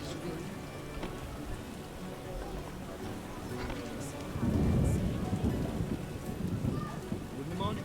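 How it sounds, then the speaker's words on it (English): Heavy downpour with rolling thunder in The Witcher (2007), a steady wash of rain that swells louder midway, with a low rumble and some voices mixed in. "Dead downpour. A real downpour."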